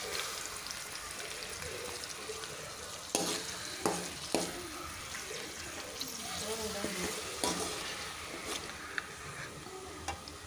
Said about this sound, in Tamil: இஞ்சி பூண்டு பேஸ்ட் போட்டு இந்த பச்சை வாசம் போகிற அளவுக்கு நல்லா மிக்ஸ் பண்ணுங்கள்.